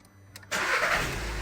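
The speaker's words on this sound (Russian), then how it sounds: "двигатель запускается" A manual Skoda Rapid engine cranks and fires at about half a second, then settles into a loud, steady idle close by after a few faint clicks from the key and clutch.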